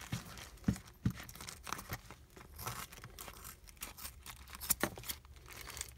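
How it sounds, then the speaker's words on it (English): Scissors snip and tear through a coin package's wrapping, with sharp crinkling and tearing bursts at irregular intervals, close and moderately loud, no talk. "So I'm going to try these scissors."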